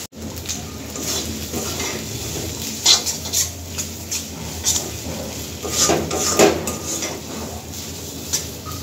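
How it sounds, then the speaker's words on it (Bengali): Kochur phool (banana flower) cooking with hilsa in a kadai, stirred with a spatula that scrapes and knocks against the iron pan in uneven bursts over a low sizzle. "এখনো বেশ কিছু সময় ধরে নাড়াচাড়া করতে হবে।"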